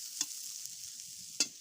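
Rohu fish fries in a pan with a steady, hissing sizzle, broken by two brief scrapes of stirring, close and fairly quiet.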